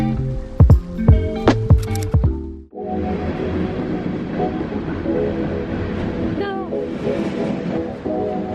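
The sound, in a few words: riding on a train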